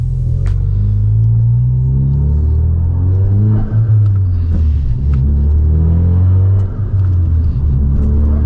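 A Ford Focus RS engine rumbles loudly and steadily, its exhaust droning with rising and falling revs as the car drives, heard from inside with no talking.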